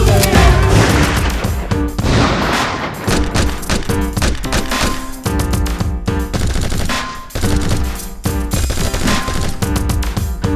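Loud, sustained gunfire in a creepy puppet horror film, dense overlapping bursts of shots and blasts running almost continuously, with brief breaks near the three- and seven-second marks and no talk.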